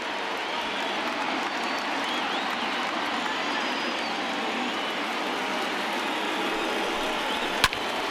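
A crowd of over 38,000 in a baseball stadium in MLB The Show 20 roars on its feet with a dense, steady wash of cheering and clapping, one sharp knock near the end.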